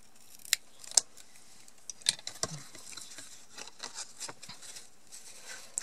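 Scissors snipping paper at a bevel for a black, kraft and gold Christmas album, with a few sharp close crisp cuts and faint rustling, quiet and without speech.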